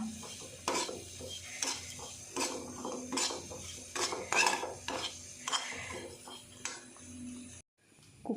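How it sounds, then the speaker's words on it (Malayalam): A spoon scrapes and clinks repeatedly against a pan while soya chunks masala is stirred, a quick irregular rhythm of close metallic knocks over a faint sizzle, stopping abruptly near the end. "ഒന്ന് ഇളക്കി കൊടുത്തിട്ട് നമുക്ക് നിർത്താം"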